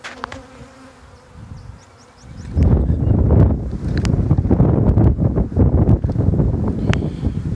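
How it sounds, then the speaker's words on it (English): A dense, loud buzzing of many honeybees fanning around a newly introduced queen, close up, a droning swarm hum with wind rumble against the microphone after a quieter start. "They smell the queen, and they're just fanning like crazy."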